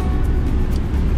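A car driving along a road in the Philippines, a steady loud low engine and road rumble heard from inside the cabin, with no talking.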